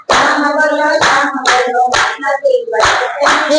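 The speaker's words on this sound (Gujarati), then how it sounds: "બે હાથે તાળી પાડો" Group hand clapping keeps time with a Gujarati devotional chant, crisp claps falling in an even rhythm beneath loud sung voices throughout.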